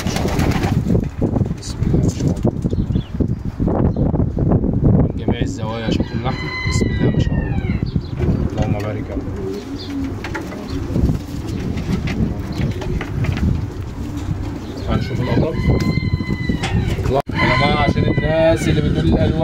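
French meat pigeons, pure-bred birds bearing a company stamp, coo repeatedly in a loft in Kuwait, soft throaty calls rising and falling beneath a man's close, near-continuous talking.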